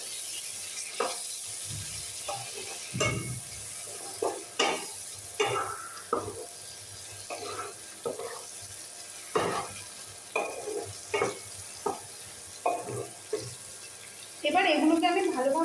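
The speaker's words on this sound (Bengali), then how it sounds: "এবার এগুলোকে আমি ভালোভাবে ভেজে নেব।" Garlic and ginger paste frying in a pan for an elephant foot yam and prawn dish: a soft background sizzle broken by a series of regular scraping stirs, with water running near the end.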